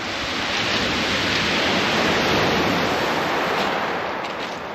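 Sea water surging through pebbles on a shoreline along the Jurassic Coast at Lulworth Cove, a steady broadband rush and hiss that swells and fades slightly, close and continuous with no talk.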